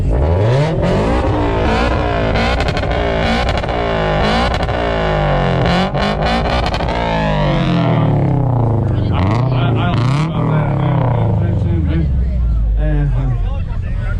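Modified street cars, including a Toyota, rev hard on two-step launch control at a competition in Ennis, Texas, engines bouncing against the limiter with rapid rising and falling bursts, loud and close, under crowd chatter and a host's voice.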